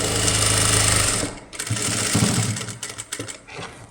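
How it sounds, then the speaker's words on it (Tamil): A sewing machine runs close by, stitching a straight seam on a child's crop top: a loud continuous whirr for about a second, then shorter stop-start bursts of stitching. "ஸ்ட்ரைட் தையலாக ஒரு தையல் போட்டுட்டு"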